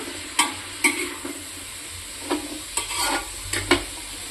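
Small shallots are stirred into a frying pan for a Kerala chicken curry, with a steady low sizzle and scattered sharp scrapes and clicks of the spoon against the pan.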